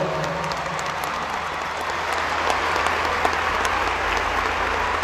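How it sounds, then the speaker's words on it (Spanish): Concert audience applauding during a 2019 live show in Cajamarca, a dense, steady wash of clapping sustained at even loudness throughout, with no talk over it. "Un fuerte aplauso, por favor."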